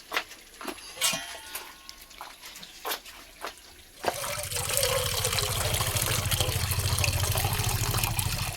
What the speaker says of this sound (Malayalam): വേറൊരു വലിയ ഉരുളി എടുത്തിട്ട് അതിൻ്റെ അകത്തേക്ക് വെള്ളം ഒഴിച്ച് തിളപ്പിച്ച്